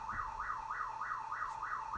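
A car alarm wails nearby in a fast, regular rising and falling sweep that repeats about seven times in two seconds, steady and continuous with no voices.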